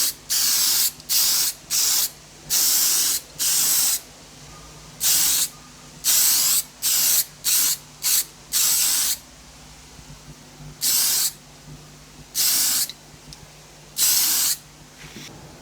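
Spray paint hisses onto a cast aluminium lava lamp base in about a dozen short, sharp bursts, each a second or so long, close and loud, separated by brief pauses.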